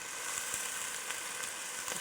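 Wine hits a pan of cooking onions, producing a dense, even hiss of sizzling with a few faint clicks, close and steady across the short stretch, with no one talking.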